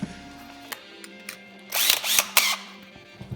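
A hand tap threads a stripped hole in an aluminum part for a 3/8-18 thread, heard as close, short scraping and grinding bursts with clicks in between, fairly quiet overall.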